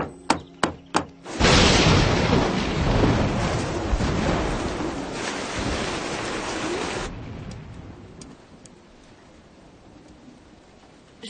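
A thunderstorm sweeps over a house roof, with a few sharp knocks and then a loud, sustained roar of thunder and heavy rain that eases into a softer, steady hiss of rain.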